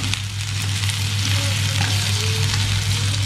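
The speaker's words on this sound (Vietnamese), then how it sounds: "Chuối cho vào đây đem chiên qua một tí cho nó" Banana pieces fry in a hot pan with a loud, steady sizzle and crackle, a constant close frying hiss with a low electrical hum beneath it.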